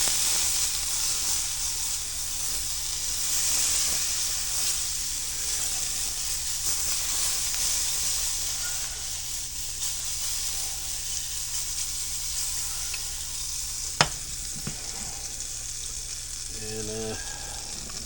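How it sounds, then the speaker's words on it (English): Butter sizzles in a frying pan while keto pancakes cook, giving a steady, soft hiss throughout with a brief clatter near the end. "We'll get a little bit of butter going in the pan again for the next pancake."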